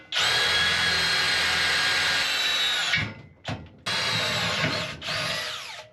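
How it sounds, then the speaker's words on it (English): Power drill boring a pilot hole in a steel bumper for a Jeep ZJ build, a loud sustained whine that cuts off, followed by short bursts of drilling. "Take my drill bit, and we'll drill a pilot hole and then drill from the other side."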